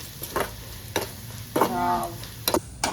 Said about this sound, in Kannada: ಖಾರದ ಪುಡಿ ಹಾಕ್ಬಿಟ್ಟು ಒಂದು ರೌಂಡ್ ಫ್ರೈ ಮಾಡೋಣ